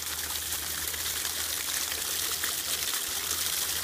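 A garden water feature keeps up a continuous, close trickling and splashing, steady and even throughout with no voices.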